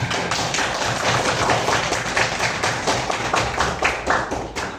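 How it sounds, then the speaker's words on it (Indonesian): A classroom group claps together during an Islamic religious lesson, producing dense, loud, rapid applause that runs steadily for several seconds. "Beri tepuk tangan"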